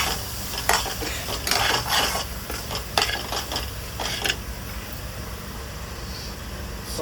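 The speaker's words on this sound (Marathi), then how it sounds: "सर्व मिक्स करून घ्यायचं" A spoon stirs ginger garlic paste into a chicken mixture in a pan, giving close, steady scraping and soft sizzling with a few sharp clinks of utensil on metal.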